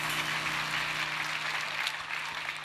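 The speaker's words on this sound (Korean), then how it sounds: "감사의 박수를 올려드리겠습니다" Sustained applause from a church congregation, a dense even wash of many hands clapping, steady in level throughout with no voices over it.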